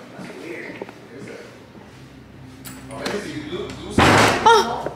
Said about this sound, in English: You heard that knock again?